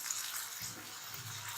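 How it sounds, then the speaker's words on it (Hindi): Quiet, steady trickle of water pouring into a cooking pot, soft hissing splash that continues throughout, close by with no talking. "अब हम इसमें थोड़ा सा पानी ऐड करेंगे"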